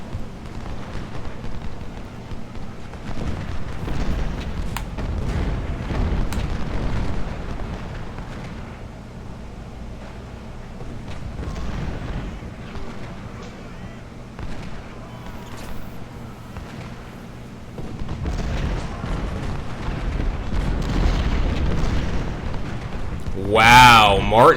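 Cannon blasts and musket fire from an American Civil War battle in the strategy game Ultimate General: Civil War rumble in repeated booms and bursts under ongoing speech, ending in a sharp loud crack.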